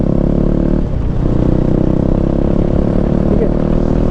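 A KTM motorcycle, an RC 390 or Duke 390, idling with a light throttle blip, a close rough thrumming engine note with a steady rattle, while someone talks over it.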